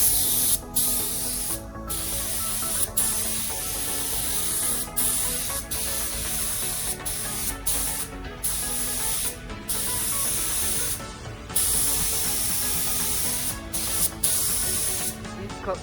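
Spray gun painting a car bumper, a steady loud hiss in repeated bursts broken by brief pauses as the trigger is released, close to the microphone.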